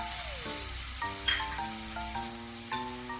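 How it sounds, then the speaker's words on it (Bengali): Garlic paste fries in hot mustard oil in a kadai for potato chops, giving a soft, steady sizzle with occasional stirring. Tonal music plays over it. "রসুন বাটাটা ভালো করে তেলের সাথে মিশিয়ে ভালো করে ভেজে নেব"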